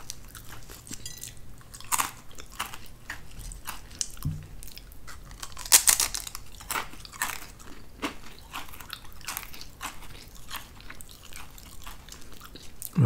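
Crisp, close crunching and chewing of Clover Valley classic original potato crisps eaten two at a time, many irregular bites and crackles in quiet surroundings without talk.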